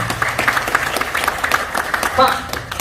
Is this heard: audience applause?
yes